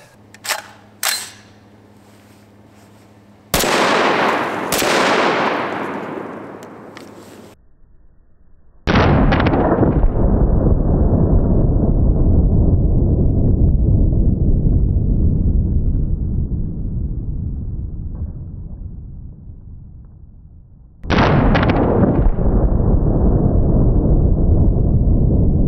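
A .50 Beowulf semi-automatic rifle fires at targets: two loud, booming shots, each followed by a long rolling echo that slowly fades, with a few sharp pops and clicks before the first blast.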